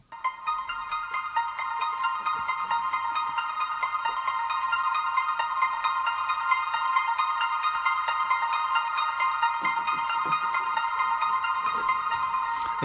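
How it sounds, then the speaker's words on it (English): Fast, steady synthesizer arpeggio from the Diva soft synth, pulsing in bright repeated notes, moderately loud and continuous, with faint low elements entering near the end. "So again, this is another Diva arpeggio,"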